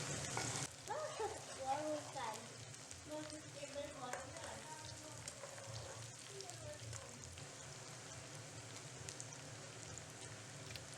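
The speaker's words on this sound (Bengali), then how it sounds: "তেলে এটা একটু ভালো মতো ফ্রাই করে নেবো তারপরে আমাদের পেঁয়াজ লঙ্কাটা অ্যাড হয়ে যাবে" Onion and chilli sizzle in hot oil in a pan for a creamy chicken curry, a quiet steady crackle with a sharp burst at the start as they hit the oil, alongside soft stirring and a voice speaking.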